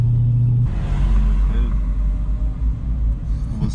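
Loud, close car engine rumble and road noise as the car drives onto a race track, a steady drone that shifts slightly after the first second.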